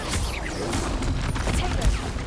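Spell blasts from the Hogwarts Legacy video game, including a Confringo fire bolt, crackle and boom continuously over a dense low rumble, with several sharp bursts near the end and no gaps between impacts.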